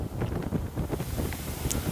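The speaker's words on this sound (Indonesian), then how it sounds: "panas yang terasa segera hilang oleh kencangnya angin dari depan maupun dari pantai Laut Utara" Strong wind roars continuously past a motorcycle riding along the North Sea coast road near Pemalang, Java, a loud, blustery buffeting rush that fills the whole clip with no voices.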